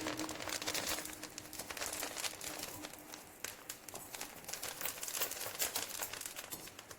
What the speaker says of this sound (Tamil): கருவேப்பிலை போட்டாச்சு.